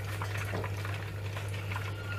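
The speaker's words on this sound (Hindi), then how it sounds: "इधर पानी भी बॉईल हो चुका हुआ है स्टीम के लिए।" Water boiling in a pot, ready for steaming chicken, gives a steady close bubbling and rolling simmer with a low constant hum underneath, heard alone for the whole stretch.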